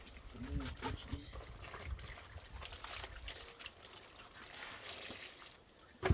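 Hand-washed clothes are rinsed outdoors in water, with soft trickling and sloshing splashes close by, quiet and uneven, and a brief louder splash at the very end.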